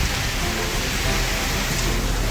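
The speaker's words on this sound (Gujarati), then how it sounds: "વરસાદ જોરદાર પડી રહ્યો છે" Heavy rain pours down in a dense, continuous roar of broadband noise, steady and close with no gaps or voices.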